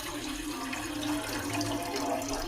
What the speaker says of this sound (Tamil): தென் வந்து தண்ணி ஊற்றிக்கலாம்.